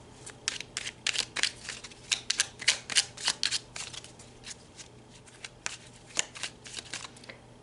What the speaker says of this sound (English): let's pull some clarifiers on these cards.